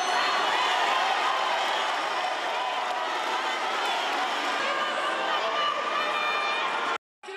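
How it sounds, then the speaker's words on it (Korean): A large political rally crowd for the Democratic Party of Korea roars in a steady, dense wash of jeers and shouting as a supreme council candidate, Jeong Bong-ju, takes the podium, loud and sustained before a sudden brief cut. "정봉주 더불어민주당 최고위원 후보가 연설대에 오르자 야유가 쏟아집니다"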